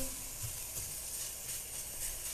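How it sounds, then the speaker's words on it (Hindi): A teaspoon of garlic fries in a hot pan, a soft, steady sizzle and hiss with faint stirring scrapes, quiet and continuous without talk. "ये एक मैंने टीस्पून गार्लिक लिया है, इसमें ये डाल देना है। थोड़ी देर हिला लीजिए इसको।"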